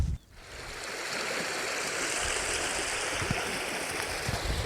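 A river rushes steadily over rocks on open Dartmoor in spring, a close, continuous broadband wash of flowing water with no voices.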